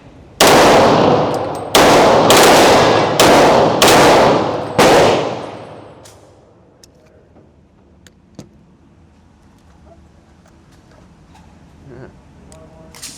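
Smith & Wesson M&P 2.0 Pro Series pistol in .40 S&W with a Freedom Finger forced-reset trigger at an outdoor shooting range: a rapid string of five or six loud, sharp shots, then a fading ring and quiet range ambience.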